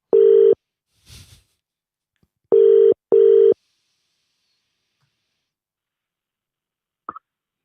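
Telephone line tones on a football phone-in show as a caller connects: three loud, steady beeps with a short gap between the second and third, a brief rustle, then near silence and a faint click.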